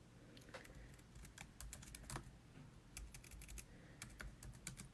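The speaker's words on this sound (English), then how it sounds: "I can't think and type at the same time." Typing on a computer keyboard, a quick, irregular stream of close, crisp key clicks at low level with short pauses, heard alone without talk.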